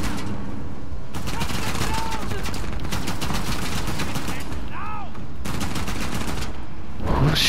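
Rapid gunfire bursts in Uncharted: The Lost Legacy, sustained volleys under a dense noisy battle bed, with voices talking over the fighting.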